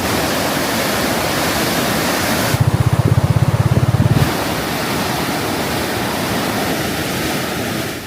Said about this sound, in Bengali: পানি কিন্তু খুব জোরে কিন্তু নেমে যাচ্ছে এই বঙ্গোপসাগরের দিকটায়